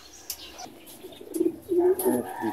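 Pigeon cooing in a few low, soft, throaty phrases that grow stronger toward the end, close by, with a brief rustle early on and no speech.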